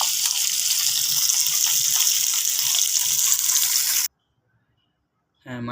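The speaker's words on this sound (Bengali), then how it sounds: "হ্যাঁ, এখন অপর পাশ আবার ভাজা হচ্ছে।" Fish frying in a hot pan after being flipped to its other side, a dense steady sizzle that cuts out abruptly near the end, then bursts back in briefly.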